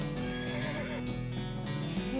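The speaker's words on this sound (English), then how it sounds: "The horse shies away from you" Horse neighing in the video game West of Loathing, a drawn-out whinny that repeats over a busy, steady game backdrop, loud and close throughout.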